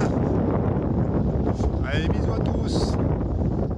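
Steady, loud wind roars across a sailboat as a Force 4 blows in with some rain, cruising from Port-de-Bouc toward Saint-Cyr-sur-Mer. A voice speaks over the constant rush.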